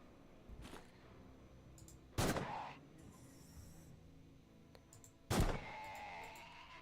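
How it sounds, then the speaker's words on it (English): Gunfire in a ninjas-versus-demons video game set on the moon: two sharp, loud shots a few seconds apart, each followed by a short ringing tail, with fainter clicks and thuds between them. "Fine, I guess I'll shoot you."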